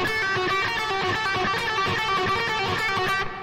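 Blues guitar pattern shifted down one string, a quick, dense run of picked notes ringing loud and alone before stopping abruptly.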